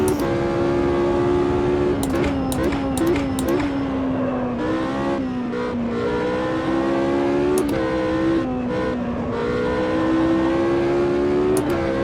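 In Automobilista 2, a race car's engine drones loud and close through a lap, rising and falling in pitch with sharp drops at gear shifts and brief lifts off the throttle.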